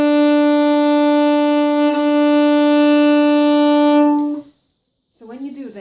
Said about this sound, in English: if you want to reproduce a very good sound of the violin on the violin, you have to check that when you play, that it sounds like this